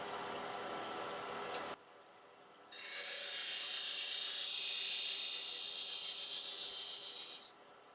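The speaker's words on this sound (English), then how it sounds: "And then I just want to clean it up with a little round nose scraper." A small round nose scraper cleans up turned wood on a lathe while making a capsule box: a brief rough rushing burst, a short pause, then a steady, fairly loud high-pitched hiss lasting several seconds before it cuts off.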